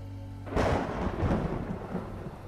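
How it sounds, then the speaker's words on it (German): Thunder from a lightning strike in the video game Dracula Origin: a sudden loud crack that breaks into a heavy, rolling rumble and keeps grumbling to the end, with no voices. "Da ist ein Blitz eingeschlagen."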